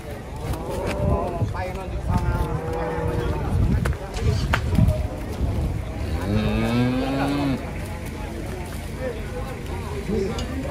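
Large cattle unloading from a truck ahead of Eid al-Adha, giving several deep, drawn-out moos amid crowd noise and shuffling, with people talking throughout.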